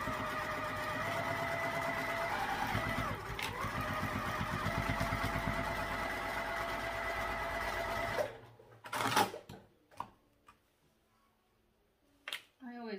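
Sewing machine basting the edges of a fabric sling, a fast steady mechanical whirr of needle strokes that runs for about eight seconds, then stops and gives way to handling clicks and a voice speaking.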